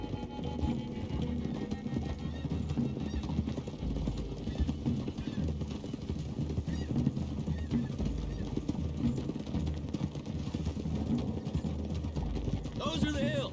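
Horses clip-clopping along a road in Red Dead Redemption 2, steady rhythmic hoofbeats from several mounts with an occasional whinny, riding over a low continuous rumble of game ambience and music.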